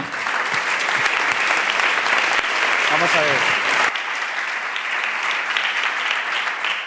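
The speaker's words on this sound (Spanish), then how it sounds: "aplauso" Loud, dense audience applause fills the hall at the Social Good Summit in Madrid, sustained throughout and easing slightly partway through, while a voice speaks briefly over the clapping.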